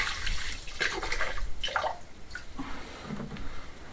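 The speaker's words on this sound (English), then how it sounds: "I'm just going to fill it up now and see if it holds water or if it leaks" Water pouring into a newly built well, splashing and trickling with bright irregular spurts and drips over a steady low wash, close by.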